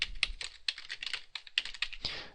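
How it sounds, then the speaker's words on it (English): Rapid typing on a computer keyboard, with a steady stream of close, crisp key clicks in uneven bursts and a few louder strokes, like a space or enter key. "you can type information in here"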